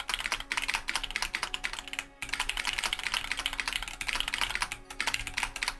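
Computer keyboard keys are struck hard in rapid, dense bursts of clacking. The typing runs almost nonstop, with two brief pauses, and is close and fairly loud with no speech.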